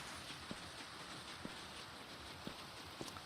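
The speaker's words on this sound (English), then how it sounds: "and fly through the rain." Rain falls steadily in Minecraft as a constant soft hiss, with a few faint, sparse thuds dotted through it.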